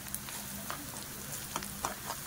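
Sliced onion fries crisp in oil over a high gas flame for a homemade veg pulao, giving a faint continuous sizzle with soft crackles and occasional stirring scrapes.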